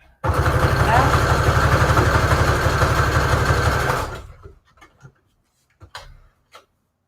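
A sewing machine stitches junk journal collage pages in one loud, rapid, steady run of about four seconds, then stops, leaving a few faint clicks and handling sounds.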